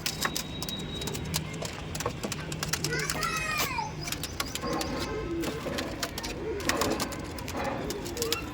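A pair of Andhra pigeons coo softly in a low, repeated murmur, fairly faint beneath nearby human voices and children's chatter.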